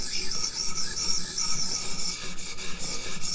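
Hinderer Firetac knife blade rubbing steadily against a knife sharpener, a close, continuous bright rasping hiss with slight rhythmic pulses as strokes pass while a burr forms on the edge.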